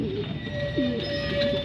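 A pigeon coos once, close by, with a short low call over a steady background hum.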